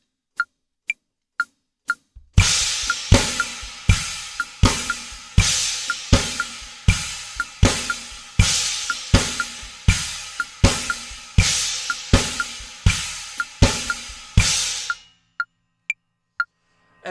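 A drum kit plays a two-against-three polyrhythm groove with a steady kick and a trashy, bright china cymbal crashing on every beat, opened and closed by a few lone clicks.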